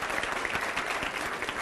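A short, steady burst of audience clapping at a political discussion event, dense and even, fairly faint, with no voices over it.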